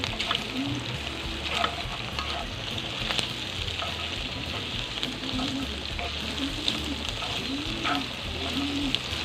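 Ginger, onion and garlic sauté in rendered pork belly fat, giving a steady close crackling sizzle with occasional stirring scrapes and no talk.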